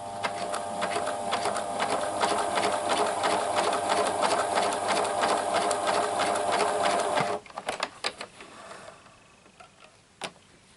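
A Pfaff classic-style quilting sewing machine runs a fast, rhythmic stitch with its width altered, a close steady mechanical clatter that stops abruptly partway through, leaving a few scattered clicks and handling noises.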